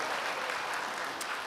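A church congregation claps at a Sunday worship service, a dense, steady roar of many hands applauding together at a fairly loud level with no pause.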